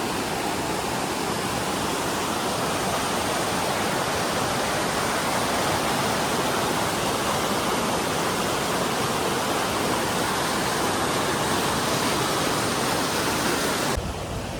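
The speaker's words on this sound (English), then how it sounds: "I'm here by this river and a bridge" A river rushes past a backcountry campsite by a bridge on the Pacific Crest Trail, a steady, loud broadband roar of flowing water that continues without a break and stops abruptly at the end.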